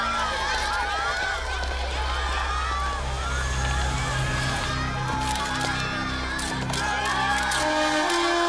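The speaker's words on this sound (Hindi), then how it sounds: "ये भीड़, ये शोर" A large crowd roars and cheers in a stadium before a tennis championship final, a steady, dense wall of shouting and whoops that persists throughout with music-like tones over it.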